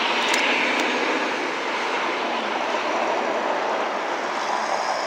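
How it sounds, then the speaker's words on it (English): Steady broadband rush of a gas pump fueling an Infiniti G37 that had trouble taking fuel, a continuous close hiss and flow with no clicks or breaks, alone and without talk. "We're gonna try it again with the gas pump."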